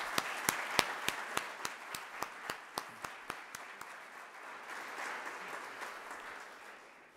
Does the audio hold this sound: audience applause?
yes